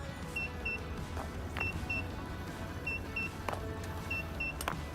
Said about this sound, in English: why are we getting beeping going on?